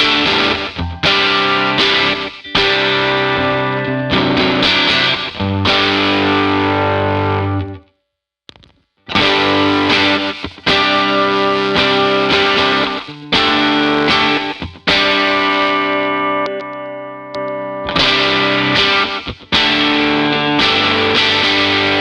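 Electric guitar played through a Broadcast overdrive pedal, modelled on a sound-desk preamp, giving a loud, gritty, saturated tone; strummed chords and riffs ring continuously with one brief silent gap near the middle.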